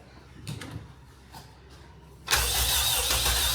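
A Honda K20 engine swapped into an EG Civic fires up for its first start, with a few quiet clicks and clunks before it catches abruptly into a loud, steady idle.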